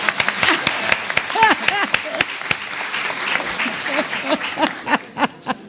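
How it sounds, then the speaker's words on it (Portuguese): Audience applause at a conference, dense clapping from a crowd sustained over several seconds, with a voice briefly heard over it and the claps thinning toward the end. "Palmas!"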